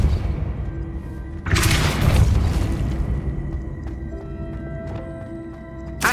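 In the Hogwarts Legacy video game, a Depulso spell is cast with a sudden loud whooshing blast and rumbling impact, followed by lingering game ambience and faint tones.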